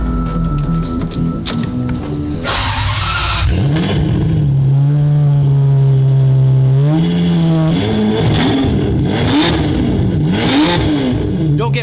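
A Ferrari 550 with headers and a near-straight-pipe exhaust, revved hard several times and held at a high pitch, with loud, rising and falling engine notes close by.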